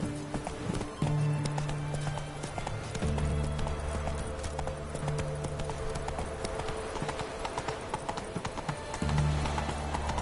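Horse hooves clip-clopping at a steady run in The Witcher 3 video game, a continuous rhythmic patter close by, with a horse whinnying in a few short bursts.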